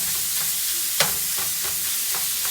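A pound of browned 85% lean ground beef is chopped up in a pan, with a steady sizzle under a series of rhythmic spatula scrapes and one sharper clack.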